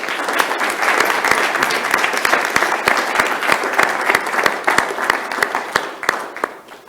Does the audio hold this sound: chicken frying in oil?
no